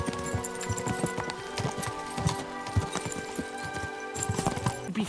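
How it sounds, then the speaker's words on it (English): Horses gallop in Kingdom Come: Deliverance II, a fast, steady clip-clop of hooves with rattling tack running throughout at close range, loud and continuous. "We should spur the horses on."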